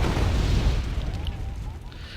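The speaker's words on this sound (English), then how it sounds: "Artillery's also been dropped over here as well" Artillery explosions in the Cold War strategy game Wargame AirLand Battle give a heavy, rumbling boom that rolls and fades over about two seconds, with a voice talking beneath.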